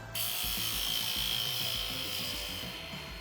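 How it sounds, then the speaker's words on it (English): Bowl gouge cutting wood on a spinning lathe during woodturning, a steady near scraping rasp with a low rumbling hum running continuously from start to finish, with no talk. "I'm going to get rid of with the bottom bowl gouge"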